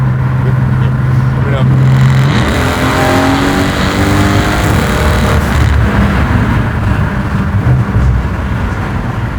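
A 1,000-horsepower twin-turbo AMG engine drones loudly from inside the cabin and climbs in pitch as it accelerates at full throttle, with voices talking underneath.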